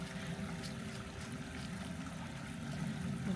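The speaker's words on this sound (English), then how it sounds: "Very pretty sound of water over these rocks," Steady rushing water tumbling over rocks in a wooded state park, a continuous close wash of noise with no voices.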